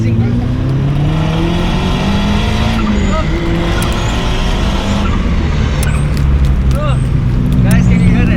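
A Mazda Miata drift car's engine screams at high revs while sliding, loud and sustained with rising and falling pitch and brief tire squeals, as someone talks over it.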